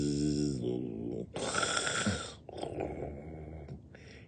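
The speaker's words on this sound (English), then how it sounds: "He snores as he takes a nap." A cartoon pig snores while napping after a snack at a café in a busy little town. A voice performs the snore as long, drawn-out, grunting breaths, loud and close, with short pauses between them.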